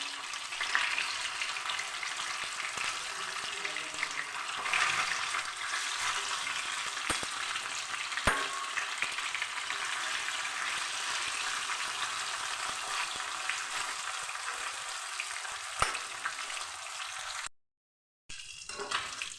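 Silver carp fish pieces fry in hot oil in a kadai with a continuous, broad crackling sizzle, heard up close with a few sharp pops and a brief dropout near the end.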